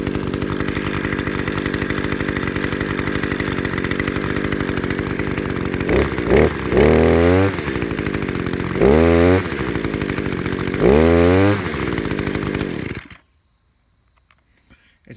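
Echo SRM-266 gas string trimmer engine runs close and loud at a steady buzzing idle, then revs up sharply three times with whining rises and falls before shutting off into near silence.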